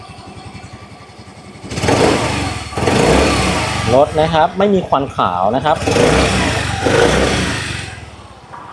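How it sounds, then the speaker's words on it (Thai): A 2025 Yamaha Grand Filano Hybrid motor scooter engine runs and revs close by, its exhaust buzzing and rising in bursts, while someone talks over it. "ต่อมาเสียงท่อเสียงเครื่องยนต์"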